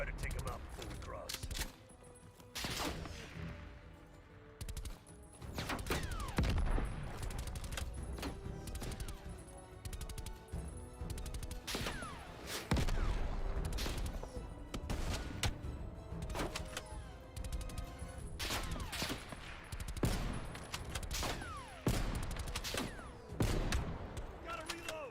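Video game gunfire rattles in dense bursts and single cracks, with clanks and creaks of mechanisms in between, and voices talking over it throughout.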